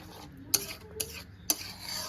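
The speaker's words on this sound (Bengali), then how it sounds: "এবার টক দই আর কাজু বাদামের যে পেস্টটা করে রেখেছিলাম প্রথমে, সেটা দিয়ে দেব। ভালো করে একটু মিশিয়ে নেব।" Spice masala being stirred with a yogurt and cashew paste for a rohu fish curry, heard as faint scraping with three sharp utensil clinks against the bowl, spaced about half a second apart, and no talking.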